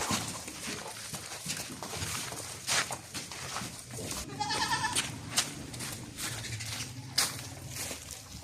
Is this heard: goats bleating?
yes